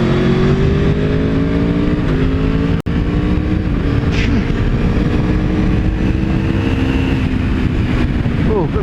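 An Aprilia Tuono V4 1100 Factory naked motorcycle sweeps through a series of bends. Its V4 engine drones close and loud with smoothly rising and falling revs over constant wind rush.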